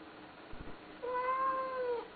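A domestic cat gives one drawn-out meow lasting about a second, close and clear, after a brief soft rustle, with no voices over it.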